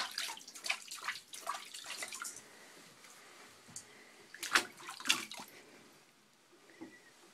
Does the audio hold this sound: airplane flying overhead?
no